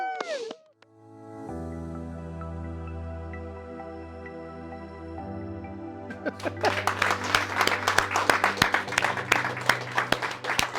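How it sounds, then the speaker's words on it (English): At a community awards ceremony, after a sustained tone and held notes, a crowd bursts into applause, clapping building loud and dense toward the end. "Round of applause for Jack, everybody"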